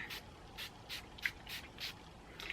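Quiet, breathy hisses of a spray bottle spraying hair oil repeat in a steady series of short pumps, close by with faint handling noise between them.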